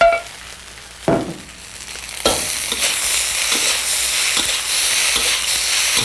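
Vegetables and fluffy cooked rice are sautéed and mixed together in a pan. A few sharp clatters are followed by a loud, sustained sizzle with repeated stirring scrapes.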